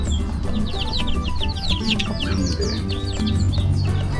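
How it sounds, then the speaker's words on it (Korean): Young chicks cheeping with adult chickens clucking close by at a farm in Colombia, a dense flurry of high peeps over a steady outdoor background. "닭새끼들."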